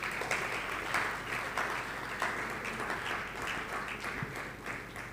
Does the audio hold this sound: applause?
yes